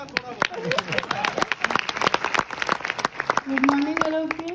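Audience applause at a morning seminar gathering, dense rapid clapping from many hands throughout, fairly close, with a voice talking over it and a hum near the end.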